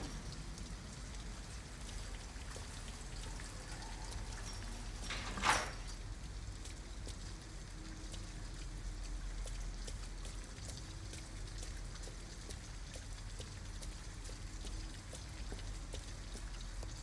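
Steady rainfall in Detroit: Become Human, soft patter of drops on surfaces continuing throughout, with one brief sharp noise near the start.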